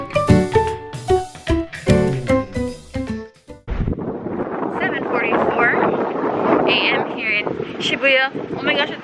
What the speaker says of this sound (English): It's windy, but not as windy as I thought it would be.